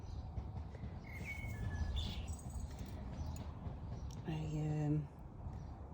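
A blackbird sings from a tree overhead in a garden, short bright phrases coming and going behind a person's close voice.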